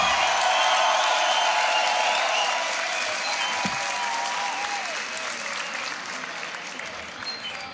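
A crowd at a beatbox battle applauds and cheers in a steady, loud wash that slowly tapers off, with voices mixed in.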